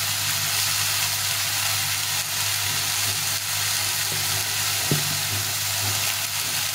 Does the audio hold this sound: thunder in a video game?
no